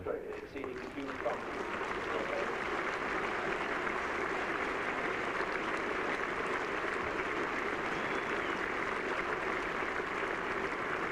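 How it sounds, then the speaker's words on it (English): A cricket crowd at a 1981 Ashes Test applauds as Ian Botham walks out to bat, a steady, distant ripple of clapping under a faint broadcast hum for the full stretch. "Applause from Ian Botham as he comes out."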